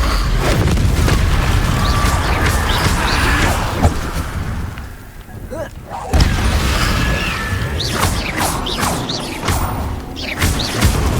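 The Incendio fire spell being cast in Hogwarts Legacy, a loud rumbling burst of booms and crashing thuds over dense game noise that briefly dips and then swells again.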